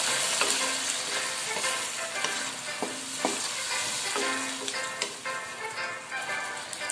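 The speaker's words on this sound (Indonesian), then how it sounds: "ditumis sampai bawang bombaynya ini layu" Sausages and onion sauté in a pan with teriyaki sauce and water, a steady close sizzle running the whole time, broken by irregular clinks and scrapes of stirring.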